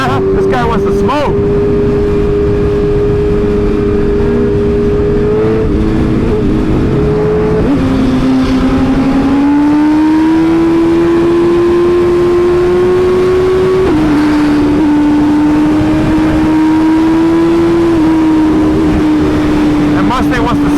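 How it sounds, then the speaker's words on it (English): A Mustang at a car meet revs hard for a burnout, its engine note rising and holding in long sustained pulls across the clip, loud and close, with people talking over it. "And Mustang wants to smoke with Caden."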